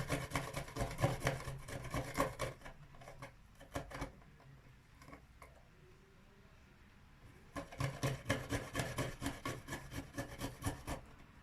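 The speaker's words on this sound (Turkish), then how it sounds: "Rendenin ince tarafıyla 3 diş samsam rendeliyorum" Three garlic cloves rubbed against the fine side of a kitchen grater, a quick rasping scrape in two bursts with a quieter pause between, close and fairly soft.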